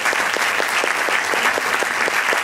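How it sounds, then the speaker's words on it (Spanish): Audience applause at a Spanish-language presentation event, a steady dense wash of many hands clapping throughout, fairly loud and continuous with no talk over it. "este aplauso es para vosotros por estar aquí"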